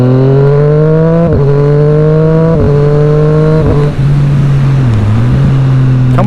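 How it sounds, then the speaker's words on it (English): Triumph Street Triple RS motorcycle from 2018 accelerating hard, its engine note climbing steadily then dropping sharply at each quick-shifter upshift, several rapid gear changes in a row, loud and close with no talking. "Wait till you hear this quick shifter."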